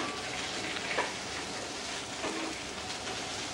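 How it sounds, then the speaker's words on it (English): Artichoke leaves sautéing in olive oil make a steady, even hiss of frying that stays constant throughout, with a couple of faint clinks in the background. "Here we have the artichoke leaves in the olive oil. On va laisser revenir. Sauté them a bit."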